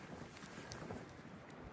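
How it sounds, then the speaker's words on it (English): Steady strong wind roars and buffets the microphone outdoors on a mountain trail en route to Wayah Bald, a constant rushing noise with slight gusty swells and no voices. "The wind is really blowing."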